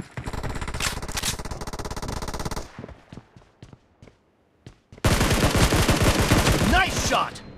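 Automatic gunfire in the mobile shooter BGMI during a team deathmatch: a loud sustained burst, then scattered single shots and a quiet gap, then another long, close, intense volley.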